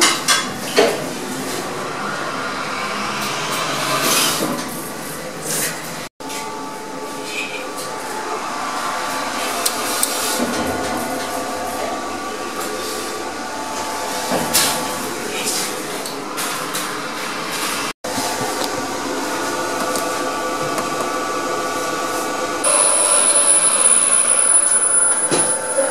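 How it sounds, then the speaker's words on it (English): A lift freefalling in its motor room, a long loud mechanical rumble and whir with clanking metallic knocks, two abrupt dropouts, and a high whine rising near the end. "let's freefall the lift"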